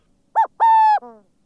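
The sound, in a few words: bird call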